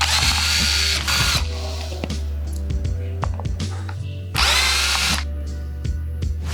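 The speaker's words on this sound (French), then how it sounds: "on va les dévisser un par un à la visseuse pour gagner du temps" A cordless screwdriver unscrewing the front wheel screws of an E-Twow e-scooter. Two short, loud whirring bursts sound up close, separated by scattered ratcheting clicks and handling knocks.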